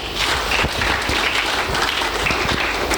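Church congregation clapping hands for Jesus: a loud, continuous roar of many hands clapping together, close and unbroken throughout.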